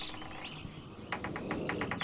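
Birds chirp and tweet in the Channelwood Age of the video game realMYST, a quick run of bright, repeated calls over a soft, steady ambient bed, growing busier in the second half.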